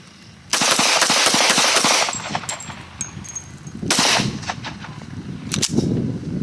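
Glock 20 10mm and Glock 21 .45 ACP Gen 5 pistols fire at a shooting range, loud close shots in rapid strings with ringing echoes between volleys.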